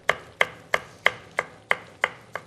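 A kitchen knife chops food into small pieces on a board while making a yeasted breakfast bun: eight evenly spaced, crisp, close chops in a steady rhythm, with no talking.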